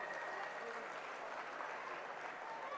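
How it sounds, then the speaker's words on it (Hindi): Loud, sustained applause from a large audience at a bank-sponsored grand finale stage event, a steady dense wash of clapping filling the whole stretch. "जोरदार तालियां हो जाए"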